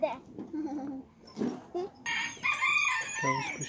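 A chicken crows loudly nearby, with scattered clucks and other farmyard calls mixed with people talking.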